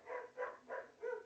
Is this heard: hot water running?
no